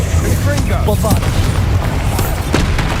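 A Bombarda explosion spell cast during a spider fight in Hogwarts Legacy, heard as a loud, dense blast of booming impacts and crackling bursts that fills the whole moment, with a voice calling out over the combat.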